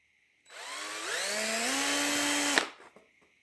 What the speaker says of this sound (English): Now we simply drill out the sides